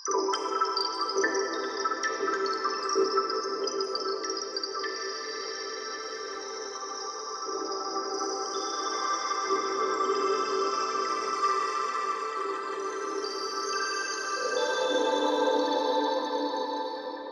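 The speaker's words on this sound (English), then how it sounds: "I also have a few effects/ambient presets in here" A sustained, airy synth pad from the Lunar Tears preset of Kilohearts Colour Forge swells and shimmers continuously, with high glassy overtones drifting slowly; soft, wide and ambient, with no talking.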